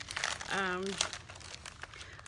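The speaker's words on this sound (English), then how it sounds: "So when I remove the stencil for the first time" A stencil peeled off fabric gives close crinkling and rustling, joined by a short tonal squeak partway through, with someone talking over it.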